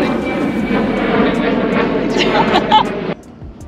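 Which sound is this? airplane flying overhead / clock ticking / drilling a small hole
airplane flying overhead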